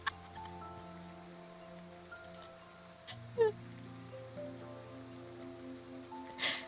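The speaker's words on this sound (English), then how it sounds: "At some point, it started raining again. The pitter-patter creates a delicate rhythm against the window frame." Soft rain patters against a window frame in the game Honkai Star Rail, a faint, steady hiss of drops beneath quiet sustained music tones.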